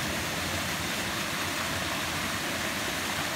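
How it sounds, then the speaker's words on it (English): Aira Force waterfall in the Lake District, a steady, loud, broadband rush of falling water filling the whole stretch without break or voices. "Waterfall. Waterfall."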